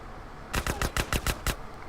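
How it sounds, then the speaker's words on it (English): Rapid gunfire in Grand Theft Auto: San Andreas, seven sharp, evenly spaced shots in a quick burst of about one second, loud and close, with no talk over them. "you pretty much have to start shooting people"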